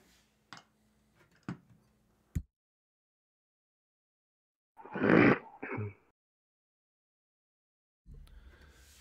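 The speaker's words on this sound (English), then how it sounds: "I had to clear my throat real quick" Someone clears their throat with a short, raspy rough burst and a quick follow-up, set between faint clicks and a bit of room noise.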